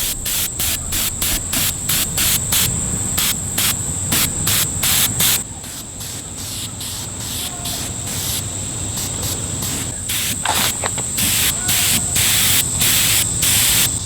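Rapid repeated bursts of hissing spray paint coating a foam model F-22 plane outdoors, short sharp pulses close by with a steady hiss underneath and a brief quieter stretch midway.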